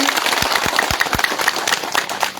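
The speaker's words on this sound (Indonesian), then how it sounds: "tepuk tangan" A crowd at a regional election campaign rally for a district head candidate claps, a short burst of uneven applause with distinct individual claps and some murmuring under it.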